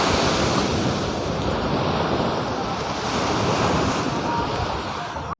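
Strong morning sea waves at Puri beach roar continuously, a loud, dense wash of surf and wind blowing across the microphone, steady throughout with no speech.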